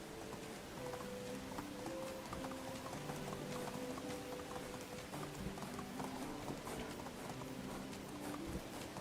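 Steady clip-clop of a horse ridden in Medieval Dynasty, soft rhythmic hoofbeats continuing throughout beneath a quiet melodic game music backdrop.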